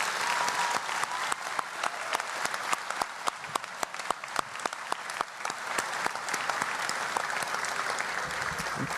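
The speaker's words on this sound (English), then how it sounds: "Round of applause for our faculty and staff." Graduation audience applauding faculty and staff, a dense, steady wash of many hands clapping for the full length, with individual sharp claps standing out and no talk over it.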